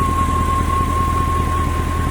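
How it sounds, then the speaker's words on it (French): Mercedes S500 W220 from 2001 with the M113 V8 (306 hp), heard at a steady idle up close: a constant low rumble with a thin, even whine holding over it for the whole stretch. "Alors, donc voilà le moteur."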